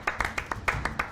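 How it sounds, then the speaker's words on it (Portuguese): Several sharp hand claps in an uneven rhythm, close and fairly faint, with no voices. "Bateu uma salva de palmas aqui pro profissional."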